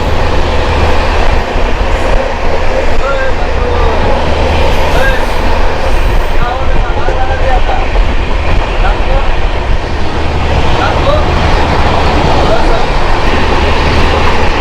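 Ranchi–Howrah Intercity superfast express train in India, heard from on board, gives a loud, continuous rumble with rattling wagons and clickety-clack running steadily throughout.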